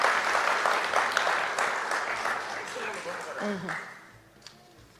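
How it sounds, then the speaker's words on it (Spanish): Audience applause welcoming a performer onto the stage at an evening show in New York, a dense burst of clapping that gradually thins out, with voices and cheers mixed in near the end. "vamos a recibir aquí con un fuerte aplauso"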